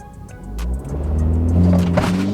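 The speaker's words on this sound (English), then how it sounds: "Let's do a launch real quick." Tuned MINI Cooper with a BOOTMOD3 tune launching hard from a standstill, engine note swelling and climbing in pitch as it pulls, loud and close from inside the cabin.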